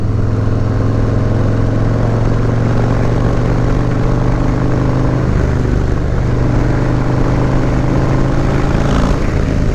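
Harley-Davidson motorcycle with dual exhaust leaning through a left turn, its engine a loud, steady low rumble that holds throughout with a slight shift in tone near the end.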